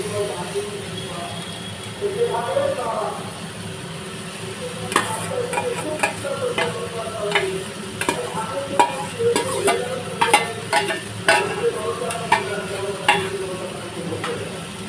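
Boiled, deboned fish seasoned with salt and turmeric is stirred into sizzling masala in a pan, with steady frying hiss and repeated scraping and clinking of a spatula against the pan over a low background hum.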